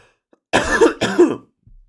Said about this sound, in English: Made myself cough, hang on.